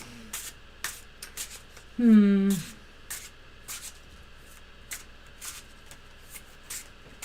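Quick riffling of playing cards being shuffled, a brief burst followed by soft taps and card handling, close by.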